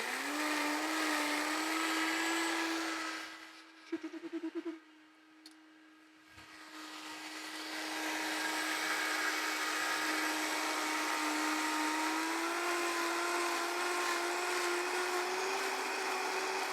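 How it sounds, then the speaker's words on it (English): An electric blender runs loud and steady with a high whine, cuts out briefly with a stuttering drop, then spins back up and holds a rising, continuous tone to the end. "I'm going to turn this on and blend it."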